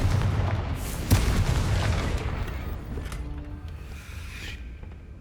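A Confringo spell blasts in Hogwarts Legacy: one deep, loud boom lands about a second in and rolls off into a fading rumble over a low background hum.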